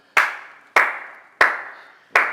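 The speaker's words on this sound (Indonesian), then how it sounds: "Kok ngapain tepuk tangannya?" Hand clapping: four sharp, separate claps spaced evenly about two-thirds of a second apart, each ringing briefly in a room, close and fairly loud, with no voices.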